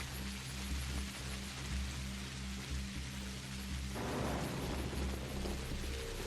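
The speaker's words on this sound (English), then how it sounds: "Embrace the rain, for it is purifying." Steady rain pouring in the video game Pathologic, a dense continuous hiss with a low rumble underneath that swells briefly partway through, with no voices.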